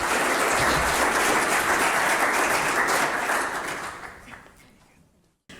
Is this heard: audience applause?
yes